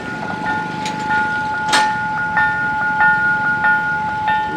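A train passes by in Jaffna with clattering wheels and rhythmic metallic clanks over the rails, steady and fairly close, joined by a bright tonal squeal or whistle-like ring.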